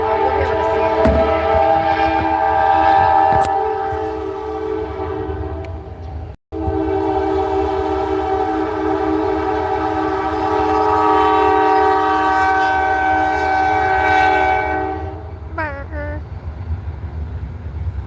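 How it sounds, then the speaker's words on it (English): A loud train passes close by, its rumbling wheels and sustained horn blasts filling the whole stretch with a steady clatter and drone that fades near the end, with a brief voice toward the close. "Oh, here comes the train."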